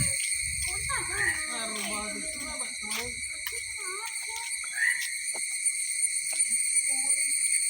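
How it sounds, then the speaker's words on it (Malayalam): Cicadas in forest near a temple buzz as a steady, high, continuous drone throughout, with light footsteps and rustling nearby at the start. "മൊത്തം ചീവീടുകളുടെ സൗണ്ടാണ് കേട്ടോ അവിടെ"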